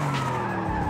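Tyre skid from a handbrake-entry drift in Forza Horizon 5, a loud continuous screech layered over a droning engine, steady throughout with no talk.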